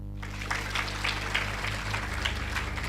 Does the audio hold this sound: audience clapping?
yes